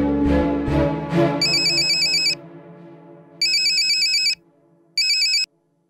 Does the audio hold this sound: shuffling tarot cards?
no